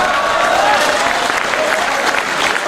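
Hearty audience applause at a Hindi comedy poetry gathering, a loud and continuous wash of clapping from a large crowd with a faint whistle running through it.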